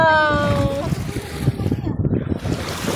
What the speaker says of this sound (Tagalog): Hey, malakas yung alon.